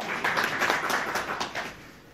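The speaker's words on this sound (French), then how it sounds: "On applaudit Hesna pour le travail." Brief round of applause at a press conference launching a new season, a lively burst of clapping from a small audience that tapers off within about two seconds.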